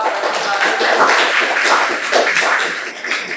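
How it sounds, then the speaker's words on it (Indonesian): A crowd of students claps steadily in a classroom, dense and continuous applause filling the whole stretch at close range. "Tepuk tangan untuk seluruh peserta"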